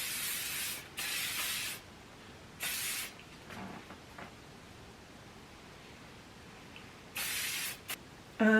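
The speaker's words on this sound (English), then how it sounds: "I'm just going to go in with Shock hairspray on the bits I've just done." Hairspray sprayed onto freshly curled hair in short hissing bursts, about five separate sprays of varying length with quiet pauses between.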